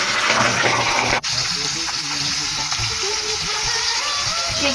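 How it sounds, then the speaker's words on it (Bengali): Fish sizzles in hot oil in a pan on a gas stove, a steady loud crackling hiss with one brief dip, heard close up. "মাছগুলো সুন্দর করে মাখিয়ে নেব, তারপরে তেলে ভাজবো।"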